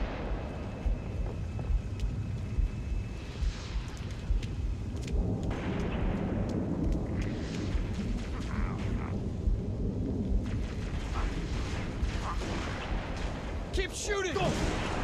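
Heavy gunfire and explosive booms in Halo Reach fill a loud, dense battle soundscape, with rumbling blasts throughout and a burst of sharp crackling shots near the end.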